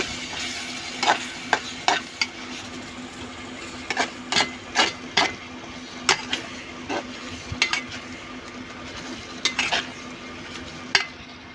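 A tangy green-chilli chutney fries in a pan, a soft sizzle under repeated sharp scraping clicks of a spoon stirring against the pan in irregular bursts.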